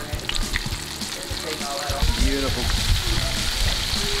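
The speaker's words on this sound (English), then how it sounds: "I love the sound of things frying." Steady hiss and crackle of alligator meat nuggets frying in hot oil, close up, with a brief spoken word over it.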